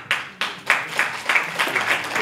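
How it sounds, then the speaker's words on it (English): A small audience claps with distinct, close-up handclaps in an uneven rhythm, brief and fairly loud. "robust round of applause"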